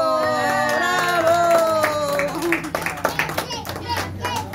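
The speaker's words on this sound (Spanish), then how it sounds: "¡Aplausos! ¡Bravo!" Hand clapping at a birthday party, irregular claps from a small group that start under a sung or drawn-out voice and then carry on alone as separate sharp slaps.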